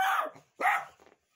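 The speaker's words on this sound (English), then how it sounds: "I do want to apologize for the barking and whining that you'll hear throughout the video" A dog gives two sharp, close barks, then a short, softer whine, with brief silent gaps between them.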